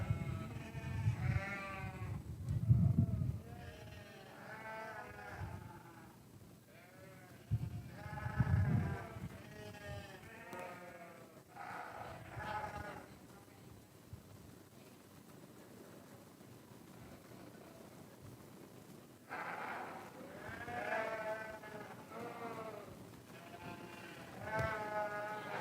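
Blackface commercial ewe at a 4-H sheep show, bleating repeatedly in loud wavering calls with short gaps, clustered early and again near the end, over arena murmur.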